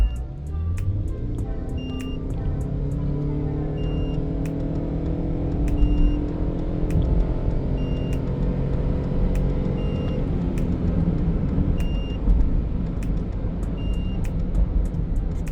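2019 Toyota Alphard Hybrid heard from inside, accelerating from a standstill to 100 as its motor tone climbs in steady rising sweeps, with regular electronic beeps chiming over the smooth cabin hum.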